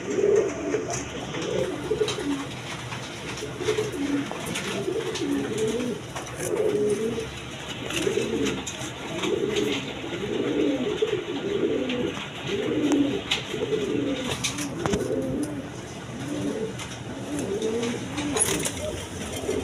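A big pair of Fieldback pigeons, a male and a female, coo steadily in rhythmic low rolling phrases that repeat throughout. Faint background noise runs underneath.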